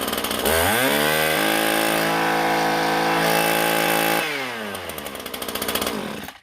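A Husqvarna 323L string trimmer's two-stroke engine, running on a newly replaced and adjusted carburetor, revs up smoothly from idle to a loud, steady high-pitched whine, then drops back down and flutters briefly before cutting off.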